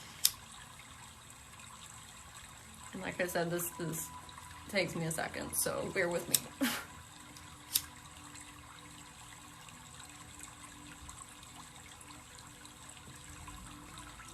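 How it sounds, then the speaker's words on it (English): Trickling, running water plays softly in the background throughout, with a quiet voice talking over it in places. "ask the water that's playing in the background"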